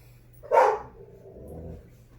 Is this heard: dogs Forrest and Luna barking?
yes